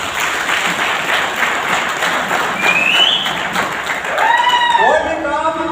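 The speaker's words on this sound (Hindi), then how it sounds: "जोरदार ताली होना चाहिए।" Loud, sustained audience applause fills a hall at a Safe Shop motivational talk, a dense wash of clapping with a few high whistles cutting through near the end.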